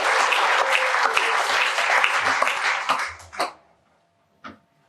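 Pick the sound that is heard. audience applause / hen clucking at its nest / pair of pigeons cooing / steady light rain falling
audience applause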